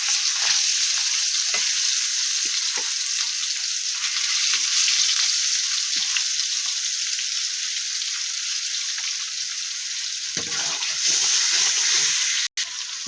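Fish frying in hot oil in a home kitchen, a steady, dense crackling sizzle that holds evenly throughout, close and loud, with a few faint knocks and one sharp click near the end; no voices.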